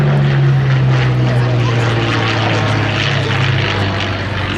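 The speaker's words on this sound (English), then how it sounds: "the P-40 comes rolling by" A Curtiss P-40 warbird flies past at an airshow, its propeller engine a loud, steady drone with a dominant low tone that slowly falls as it passes nearby.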